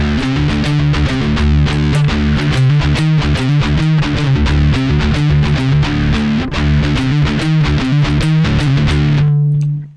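A heavy palm-muted electric guitar riff from a song, played on low D with hammer-offs, chugs in tight distorted bursts at a fast, steady rhythm, loud and alone, then cuts off with a brief ringing tail.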